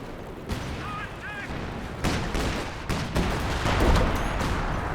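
Howitzer artillery barrage in the Company of Heroes 2 battle game: repeated heavy booming impacts arrive in quick succession amid constant battlefield gunfire and noise.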